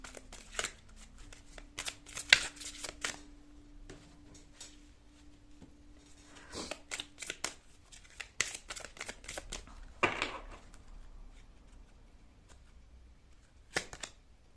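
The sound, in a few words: shuffling tarot cards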